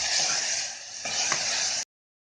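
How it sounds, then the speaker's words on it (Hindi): Washed arhar dal sizzles steadily as it roasts in hot oil with spices, a loud, even hiss close up that cuts off abruptly, with no talking. "दाल को हम 5 मिनट तक भूनेंगे।"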